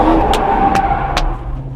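A GT500-swapped Ford F100 drifting, its engine droning loud and steady with three brief sharp bursts spaced evenly as the revs climb, no voices over it.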